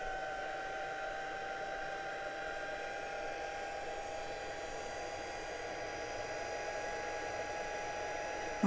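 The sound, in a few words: heat embossing tool running while it heats up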